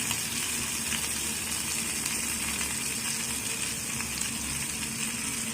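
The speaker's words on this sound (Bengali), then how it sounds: "আর শুকনো লঙ্কা দিয়ে দেবো তেলের মধ্যে, দিয়ে একটু নাড়াচাড়া করে দেবো" Dried red chillies and mustard seeds fry in hot oil while being stirred for a Bengali raw mango chutney, giving a steady, dense sizzle that holds evenly throughout with no voices.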